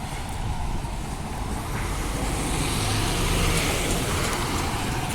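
A route 537 bus at Aubin Grove train station idles and rumbles steadily up close, its broadband engine and road noise filling the scene with no voices.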